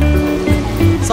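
Sea waves washing ashore at Shekou, Shenzhen, a steady loud roar of surf with no distinct breaks over about a second.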